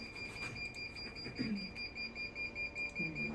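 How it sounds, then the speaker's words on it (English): An electronic alarm sounds in a room, a faint, sustained high-pitched double tone that beeps on steadily while people talk and move around beneath it. "Why is the alarm going off?"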